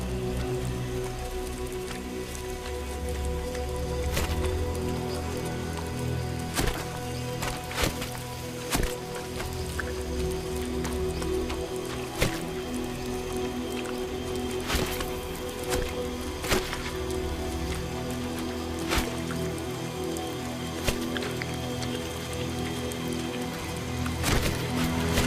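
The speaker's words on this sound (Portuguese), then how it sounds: "a chuva forte que chega ao chão da floresta ameaça este sistema logístico" Heavy rain falling on a forest floor: a constant soft patter with scattered sharper drips and taps on leaves, quiet and steady, no voices.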